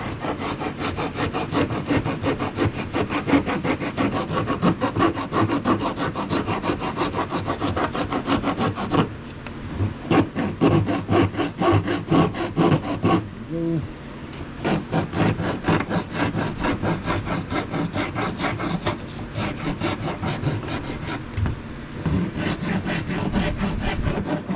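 A wooden wand is filed by hand with a rasp-like file, giving a rapid run of gritty scraping strokes. The strokes are close and loud, with a brief pause midway, and no one speaks.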